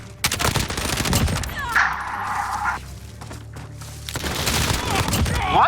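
Rapid automatic gunfire crackles in bursts during a Call of Duty Modern Warfare match, loud and close, with a short pause in the middle and a voice talking over it.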